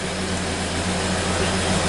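A 1930 Ford Model A engine idling on an 8-volt battery, its carburetor running slightly rich, producing a steady loud low rumble with an even drone throughout, close up and without voices.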